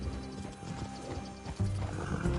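Horses in the video game Red Dead Redemption 2 shuffle and clop with tack jangling, then snort or whinny faintly, close by under a low outdoor ambience.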